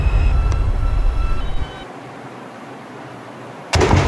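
A New York subway 5 train at an elevated station rumbles and whines loudly, then the noise drops to a quiet hum before a sharp burst returns at the end.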